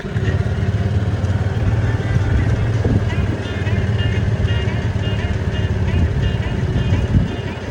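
A golf cart driving in The Villages gives a steady, close drone of motor and road rumble that stays at an even loudness throughout, with no clear speech.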